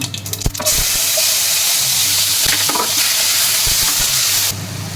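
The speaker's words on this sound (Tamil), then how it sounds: "எண்ணெய் கொஞ்சம் ஊற்றிக்கலாம், கடுகு போட்டுக்கலாம், ஆனியன் போட்டுக்கலாம்" Mustard seeds and onion frying in hot oil in a pan for masala Maggi, a loud steady close-up sizzle and hiss with a few sharp pops and stirring clatter near the start.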